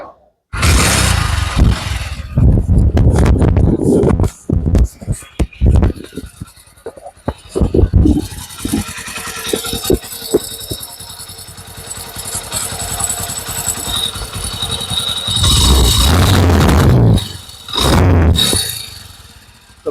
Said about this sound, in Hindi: तो बाइक का आपने साउंड चेक किया है, आ रहा है, इसमें छन छन की आवाज़ आ जाती है।